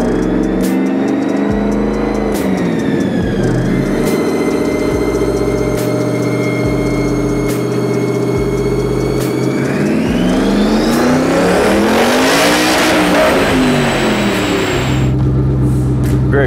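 Turbocharged Ford Coyote engine with custom cams and GT350 heads roaring on a dyno pull, revving steadily upward to a loud peak, then dropping back, continuous and close.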